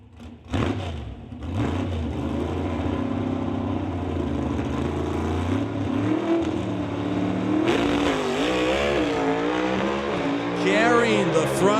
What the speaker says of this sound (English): at least one more Super Shifter car running up to the racetrack. This one being one of ye old Mustangs.